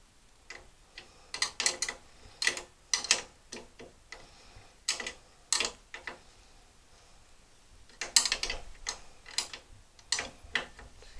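Small ratcheting clicks come in quick bursts while nuts are tightened on a Honda HRA214 self-propelled lawn mower, near and crisp, separated by brief pauses.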